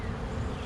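Honeybees at a backyard hive hum in a dense, steady swarm buzz, close and continuous, with no voices.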